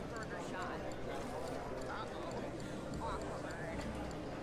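Galloping horses in a video game horse race: a rapid, drumming patter of hooves, faint and underneath a voice speaking.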